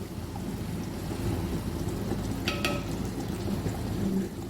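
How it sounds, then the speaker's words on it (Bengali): Chicken cooks in a handi in its released oil with a steady, loud broadband sizzle and crackle that continues without a break, plus a brief bright clink partway through. "দারুণ আওয়াজ হচ্ছে চরবার চরবার"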